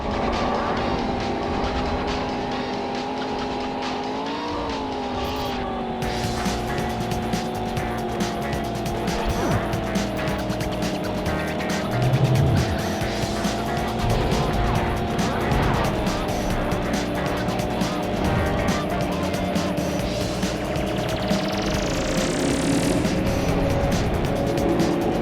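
Racing cars from the video game Rollcage Stage II roar continuously with steady engine drone, intermittent tire squeals and skids, and an upbeat electronic soundtrack underneath, with no talking.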